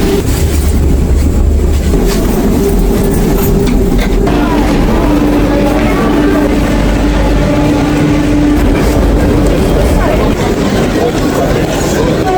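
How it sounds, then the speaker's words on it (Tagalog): Train standing at a Bucharest station as passengers get off, a loud continuous low rumble and hiss of the carriage with faint clatter, steady throughout. "Pababa na kami ng train."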